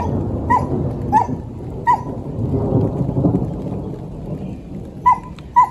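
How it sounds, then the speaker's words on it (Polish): Low thunder rumbles through steady rain during a thunderstorm outdoors, with a dog barking in short, sharp bursts several times over the continuous storm noise. "Trochę grzmi."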